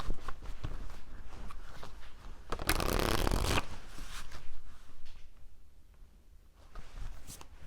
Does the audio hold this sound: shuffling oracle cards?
yes